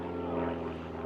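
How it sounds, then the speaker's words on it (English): An airplane passes overhead above a back garden, a steady droning engine hum, moderately loud and unbroken for a brief moment. "There's an airplane going over."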